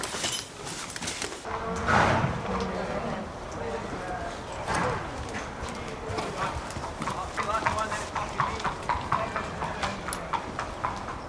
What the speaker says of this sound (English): Some of the younger horses are going to a special grass gallop